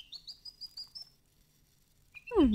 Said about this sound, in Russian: Механическая птица.